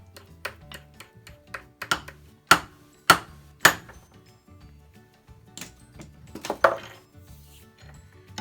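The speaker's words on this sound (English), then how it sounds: "Now that we're done drilling, I'm going to go ahead and take out the drill chuck." Drill chuck being knocked loose and pulled from a Harbor Freight mini mill, with a series of sharp metallic taps and clanks, several louder hammer-like strikes among lighter ticks and clatter, close and alone.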